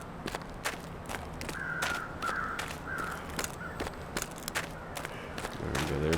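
Crows cawing in The Long Dark while circling a body in a snowy wilderness, their harsh calls repeating at mid distance over crunching footsteps.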